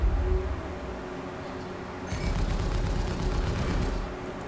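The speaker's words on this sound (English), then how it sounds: "Just so you know, I was shooting at the missile." Ship-mounted guns on an Anvil Gladiator fire at an incoming missile during multicrew space combat in Star Citizen, a dense sustained rattle of rapid shots starting about halfway through over a steady low engine rumble.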